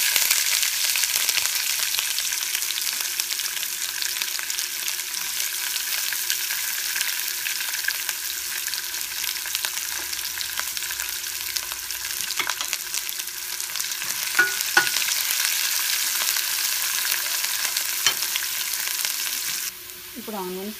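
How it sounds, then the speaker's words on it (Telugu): Green chillies frying in hot oil with mustard seeds and cumin for an onion curry: a constant, close hiss and crackle with occasional light stirring clicks, no voices. "ఇప్పుడు గ్రీన్ చిల్లీ వేసుకుందాం."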